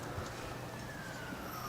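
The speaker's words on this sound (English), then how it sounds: "Sirens in the background" Distant sirens wail faintly under steady outdoor ambience during a lawn bowls pairs match at a bowling club in Coffs Harbour, a thin rising-and-falling tone with no talk over it.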